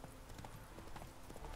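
Faint, steady clip-clop of horse hooves trotting in the video game The Witcher 3, muffled and somewhat distant beneath a dense wash of background noise.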